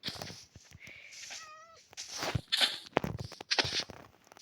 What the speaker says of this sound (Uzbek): Bu mushuk Minecraft'da